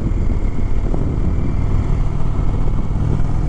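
A 2021 Indian Chief Dark Horse motorcycle cruising along on a ride, its engine a loud, steady low rumble with continuous wind roar and no talking.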